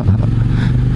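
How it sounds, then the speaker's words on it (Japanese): Motorcycle engine knocking while climbing a hill on a touring ride, a loud close low rumble with uneven clattering pulses over about one second, with no talk. "ノッキングした。"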